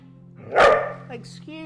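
A dog barks once in a short, loud burst near a yoga session, with a steady low hum underneath and a person speaking softly before and after.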